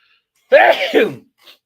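One sharp, voiced sneeze from a man indoors, bursting loudly and trailing off within about half a second, followed by a faint breathy sound.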